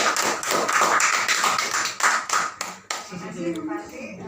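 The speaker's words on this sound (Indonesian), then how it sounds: "Terima kasih aplaus buat Bu Parti." Applause from an audience after a presentation at a teachers' module dissemination session, a sustained dense clatter of many hands that fades into a few scattered claps near the end.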